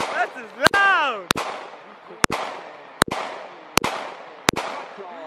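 Six sharp, loud gunshots from a 9mm Ruger pistol, fired at irregular intervals about a second apart, each crack followed by a short echo, with a person whooping over the first shot.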